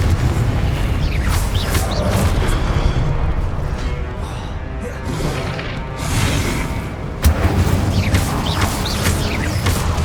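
Spell combat in the video game Hogwarts Legacy: a continuous barrage of loud, booming magical blasts and crackling bursts, with a sharp fresh explosion near the end layered over a deep rumbling bed.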